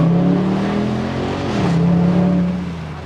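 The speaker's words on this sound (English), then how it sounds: "Hopefully you guys can hear the exhaust," A 2022 Dodge Charger Scat Pack Widebody on stock mufflers revs loudly up close, its deep exhaust drone holding, dipping and swelling again before easing off.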